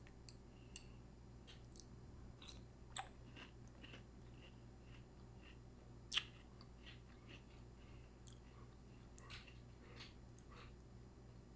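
Someone chews crunchy homemade peanut butter breakfast cereal, producing faint, irregular crisp crackles and bites close to the mic over a quiet background.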